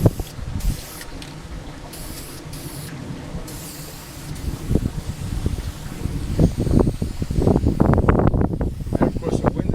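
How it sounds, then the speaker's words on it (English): Outdoor wind gusts buffet an open microphone during a Suzuki motorcycle fairing repair session, a broad rumbling roar that swells and thumps louder toward the end, with no one speaking. "the wind is starting to kick up just at the point in time when I would like it not to kick up"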